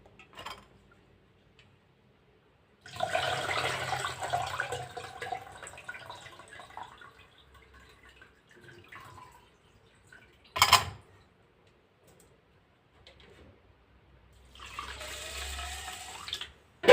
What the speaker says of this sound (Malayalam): വെള്ളം ആദ്യം ഊറ്റിക്കളഞ്ഞ് അതിൽ കുറച്ച് പച്ചവെള്ളം ഒഴിച്ച് എന്നിട്ട് ഊറ്റുക